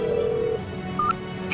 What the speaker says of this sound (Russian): Я брату звоню родному.